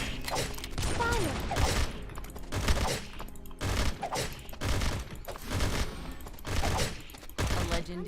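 Gunfire in a video game, with repeated bursts of shots and mechanical clanks at an irregular rhythm, fairly loud, with music or voices faintly underneath.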